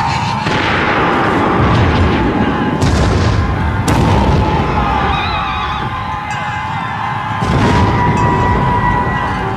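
Repeated booming cannon blasts ring out over a dense Napoleonic battle din, with scattered gunfire and whinnying horses amid the loud, chaotic noise.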